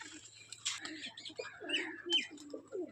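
Rajshahi Giribaz flying pigeons coo and chirp softly at close range, with a few short calls over a quiet low background hum.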